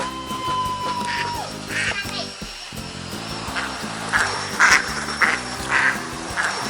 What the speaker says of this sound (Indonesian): ini uniknya pacu itik dari Payakumbuh